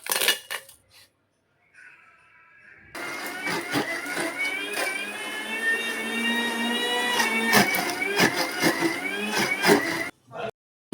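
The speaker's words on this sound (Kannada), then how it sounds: "ಇವಾಗ ಮಿಕ್ಸಿಗೆ ಹಾಕ್ಕೊಂಡು ಮಿಕ್ಸಿಗೆ ಹಾಕ್ಕೊಂಡು ಸಣ್ಣಗೆ ರುಬ್ಕೊಳ್ಳೋಣ" A mixer grinder whirs loudly as it grinds spices with Byadgi chillies into a fine paste for fish sambar. It follows a few brief clatters, runs at a steady high whine for about seven seconds, then cuts off.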